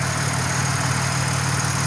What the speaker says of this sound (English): it's just sitting here idling nice and smooth